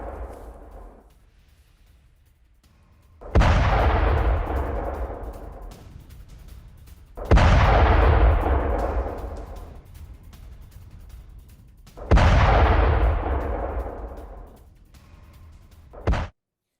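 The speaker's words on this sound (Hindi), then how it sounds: "यूएस इजराइल ने भीषण बमबारी की है।" Heavy bombardment explosions hit Bandar Lengeh, Iran, where a customs office was destroyed in the strikes: three loud, deep blasts come a few seconds apart, each booming suddenly and fading slowly over a low rumbling background.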